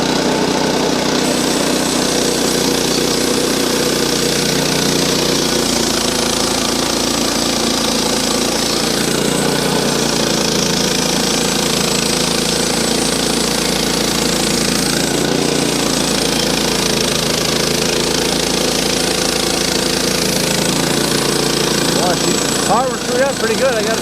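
Frontier OS18 sawmill powered by a 7 horsepower engine cutting a beam, a loud continuous engine roar with blade whine holding steady throughout.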